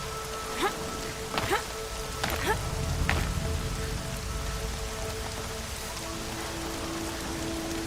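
Steady rain falling in the open-world game Horizon Zero Dawn, a continuous soft wash with a few sharper drops near the start, even and moderately loud throughout with no talking.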